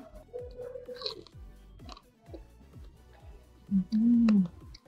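Crunchy masala vada made with chana dal being chewed up close, with repeated crisp bites and mouth noises, plus a louder tonal vocal burst near the end.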